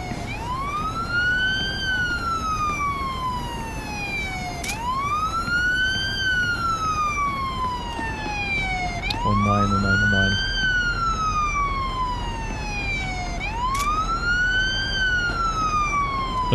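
An ambulance siren in Police Simulator: Patrol Officers wails in long rising-and-falling sweeps that repeat steadily over a low traffic hum, loud and close, with a brief electronic blip partway through.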